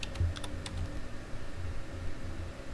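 Rapid clicking keystrokes on a computer keyboard, typed in quick uneven bursts at close range, with a steady low hum underneath and no talking.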